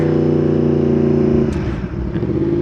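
A motorcycle fitted with an Akrapovič exhaust accelerating to overtake on Wicklow mountain roads, a loud, close, rising engine drone with strong harmonic tones that eases off after a second and a half.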